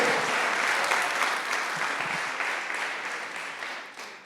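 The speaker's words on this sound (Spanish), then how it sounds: "Ofrendas de aplausos para nuestro sanador" Applause from a church congregation during a sermon on divine healing, a broad burst of clapping that starts loud and gradually fades over four seconds, alone without talk.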